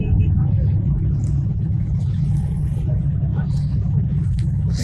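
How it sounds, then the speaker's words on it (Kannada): A Honda CB 1100cc motorcycle on a group superbike ride near Hampi gives off a steady, deep low rumble close by while the engine runs without pause. "Honda 1100cc CB."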